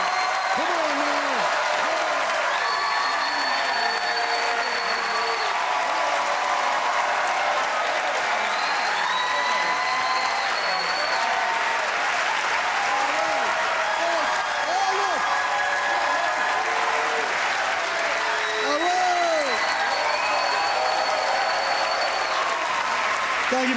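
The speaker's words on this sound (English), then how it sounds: "That's the first standing O I ever got" A comedy club audience gives a standing ovation, with sustained dense applause and scattered cheers and whistles filling the room without a break.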